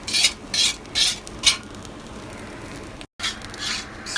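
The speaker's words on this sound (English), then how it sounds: "I'm toasting coconuts." Coconut toasting in a pan, with a soft steady sizzle and rhythmic scraping strokes as it is stirred, about five sweeps close by, with no talk.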